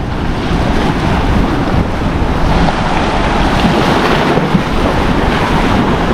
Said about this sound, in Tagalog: Ganda ng dagat oh. High tide siya mga katropa.